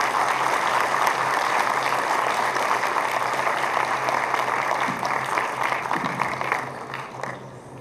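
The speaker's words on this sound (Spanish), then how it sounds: "Les pido a todos ustedes los recibamos con un fuerte aplauso." An audience at a talk on Mexican agricultural industrialization gives a long, loud ovation to welcome a speaker, a thick sustained clapping that thins and fades in the last second.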